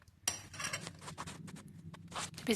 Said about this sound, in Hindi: इस मिक्सचर को अच्छे से मिक्स करेंगे